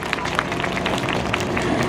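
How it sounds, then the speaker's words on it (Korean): Sustained applause from a crowd at an outdoor Wednesday protest rally, steady, dense clapping throughout with a murmur of voices underneath. "큰 박수 부탁드립니다"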